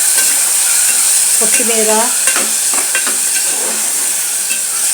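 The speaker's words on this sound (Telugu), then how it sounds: "అన్నీ ఫ్రై అవుతుంటాయి" Ginger garlic paste and tomatoes frying in oil in a kadai, a loud, even hiss and sizzle throughout, with a voice speaking briefly over it.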